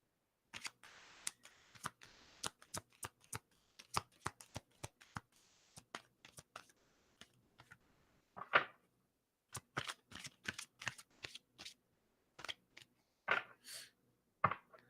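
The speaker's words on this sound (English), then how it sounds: "One more shuffle." Playing cards being shuffled for a reading: repeated crisp riffling and tapping bursts in quick irregular clusters, close and quiet, with brief pauses between rounds.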